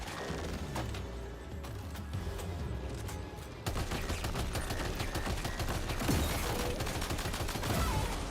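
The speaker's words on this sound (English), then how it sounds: "Eat these bullets" Gunfire in Death Stranding 2 crackles as a steady stream of fast shots under a dense, noisy game soundscape, turning louder and fuller partway through, with no clear voices.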